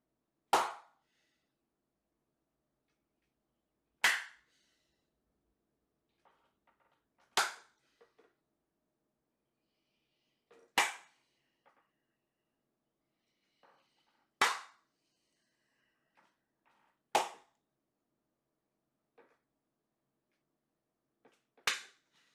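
Loud, single hand claps spaced a few seconds apart during a preaching session, each sharp and ringing against near silence, with faint murmurs between.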